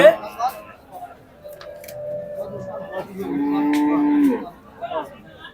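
Cattle moo nearby at the Hazratpur cattle market in Bangladesh, two long, low drawn-out calls one after the other, while people chatter around them.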